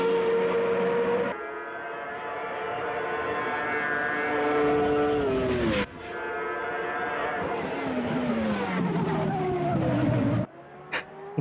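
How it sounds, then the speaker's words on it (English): Race car engine in the Automobilista 2 racing game, loud and close, revving high and dropping pitch on overrun as the car brakes, with abrupt cuts between gear changes and a brief tire squeal near the end. "definitely the sounds on the overrun is just really, really cool"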